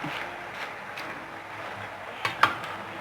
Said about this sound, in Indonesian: setelah seperti ini baru kita aduk